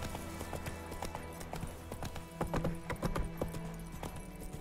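A horse's hooves clip-clop in The Witcher 3 video game, a steady run of close, crisp strikes over a low droning backdrop, growing denser and louder toward the end.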